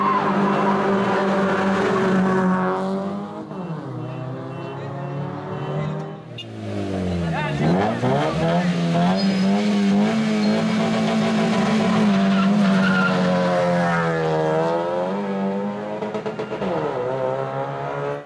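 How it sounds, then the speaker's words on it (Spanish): Drag race cars at a town founding festival street race in Puerto Quito roar and rev hard, tires squealing and skidding in long repeated bursts, loud and close, with voices faintly underneath. "revisamos el video de lo que fue la carrera de piques"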